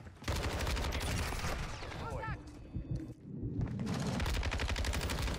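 Bursts of automatic gunfire from a gun in Call of Duty: Modern Warfare, loud and near, with rapid repeated shots broken by brief pauses and a voice speaking partway through.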